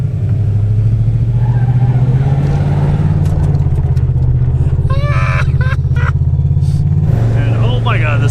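An abandoned limousine drives along a road, its engine giving a steady low drone throughout, with people talking over it.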